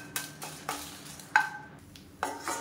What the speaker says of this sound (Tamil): இப்போ வரமிளகா நல்லா வறுமடிச்சு எடுத்துடலாம்